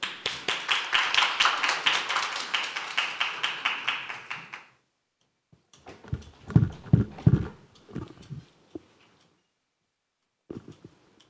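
An audience at a speech contest claps for a contestant, a brisk burst of applause lasting about four seconds, followed by scattered thumps and knocks of people settling.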